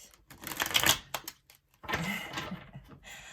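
Tarot cards are shuffled up close in quick, crisp riffling bursts, separated by short pauses, with no talking.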